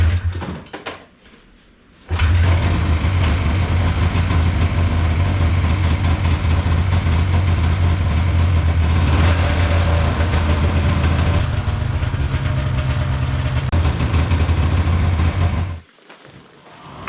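A snowmobile engine with oil dripping from its exhaust fires up after a brief crank, then settles into a loud, steady idle that runs close and continuous before cutting off near the end.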